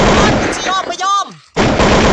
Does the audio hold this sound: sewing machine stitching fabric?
no